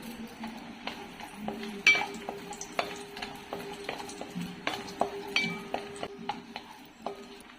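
Cashews fry in a pan for laddu, with a soft sizzle under repeated spoon clinks and scrapes against the metal as they are stirred, close and fairly quiet.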